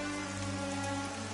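Steady rain pours in Granblue Fantasy Versus, an even, dense wash of falling water that holds unbroken throughout, with no voices over it.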